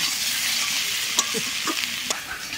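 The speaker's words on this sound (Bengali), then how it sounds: "আমার বাড়িতে মানুষ দিয়ে কিছু আলু দিয়ে কষে দেবো।" Potatoes fry in a spice paste for a koi fish curry, giving a steady, close sizzle broken by a few sharp scrapes and knocks of a spoon stirring in the pan.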